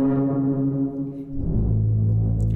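A deep, sustained horn blares in the video game Flathead, one long, steady low blast that shifts pitch slightly partway through and carries on alone without any talk.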